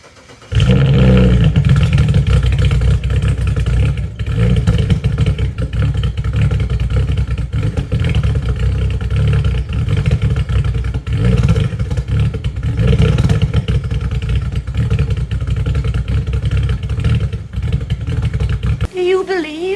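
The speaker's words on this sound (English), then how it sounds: "I'm gonna show you now what it sounded like this morning when I gave it a cold start." BMW car, a mechanic-special bought from Craigslist, cold-starting and idling; a loud, steady engine drone with rough clattering runs for nearly twenty seconds, then cuts off abruptly near the end.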